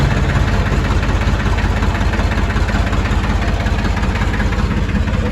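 A farm tractor's diesel engine idles steadily and loudly close by, a continuous low rhythmic chug with no voices.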